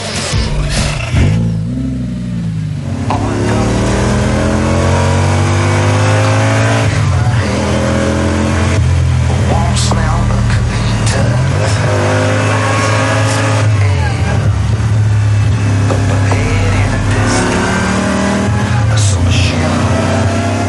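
A 2003 Audi Le Mans Quattro concept car starts and runs. Its engine rumbles and revs loudly and steadily throughout, with rising and falling tones and a person talking over it.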